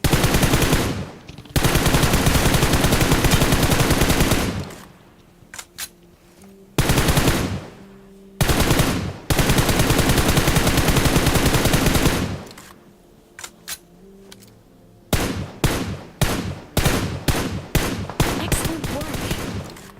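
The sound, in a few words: gunfire from both sides in PUBG Mobile video game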